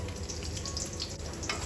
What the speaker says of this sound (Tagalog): Mainit na po yan. Lagyan na natin muna itong bawang.